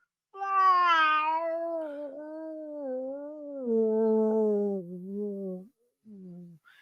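A person's voice imitates an angry mother cat, giving one long, wavering, drawn-out yowl that rises and falls in pitch before a short final cry, close and alone.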